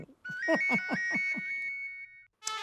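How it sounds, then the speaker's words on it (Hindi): A phone ringtone plays, a quick sequence of bright electronic tones repeating in a lively rhythm, followed by a short pause and another burst. "फोन की घंटी बजी"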